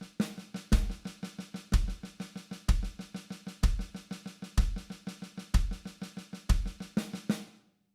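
A drum kit plays sixteenth-note triplets, six notes per beat, in even rapid bursts with a bass-drum accent leading each beat, close and clear, ending with cymbal decay.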